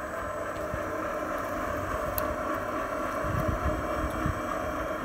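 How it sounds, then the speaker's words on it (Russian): An electric stainless steel four-frame honey extractor spins at maximum speed, giving a steady whirring drone with a windy rush of air and occasional faint knocks, continuous and fairly close. "Вот я сейчас повышаю обороты до максимального"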